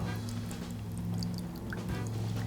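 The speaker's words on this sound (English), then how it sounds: "We're just gonna pour this right into our glass." A strained Bacardi cocktail is poured from a shaker into a coupe glass, a soft liquid trickle over a steady low background hum.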